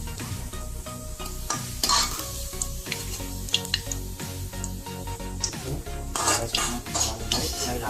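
Sliced onions frying in hot oil in a pot on a reduced flame for chicken biryani, a steady crackling sizzle with repeated metal stirring and scraping clinks throughout.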